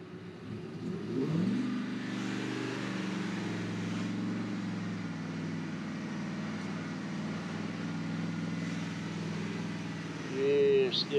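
A 2004 Ford F-150 engine running rough, as if flooded, during a Seafoam carbon-cleaning treatment, with a steady mid-pitched drone that surges at the start and again near the end with a pop.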